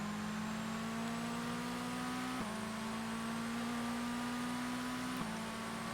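Supercar engine in ToCA Race Driver 2 held at a steady high-pitched drone against the rev limiter, dipping abruptly twice as the revs cut and recover, loud and continuous with no talk.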